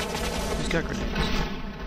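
Rapid gunfire from soldiers in the video game Cepheus Protocol, a dense continuous fusillade of overlapping shots filling the whole clip at steady loudness.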